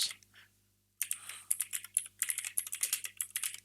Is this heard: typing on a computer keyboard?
yes